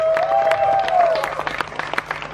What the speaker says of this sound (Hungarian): Nagy tapsot neki is.